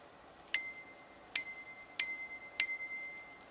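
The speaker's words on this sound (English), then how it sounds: "The bell." Four bright metallic rings from the handlebar bell of an Engwe L16 16-inch 48V electric bike, struck in an uneven rhythm, close and loud. Each ring decays quickly, and there is no speech.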